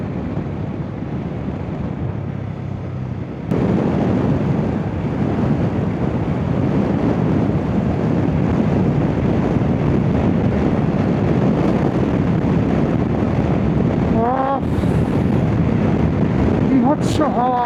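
Strong, cold wind roars loudly and steadily against the microphone during a motorbike ride in Ladakh, a continuous broadband rush that builds after a few seconds and holds to the end.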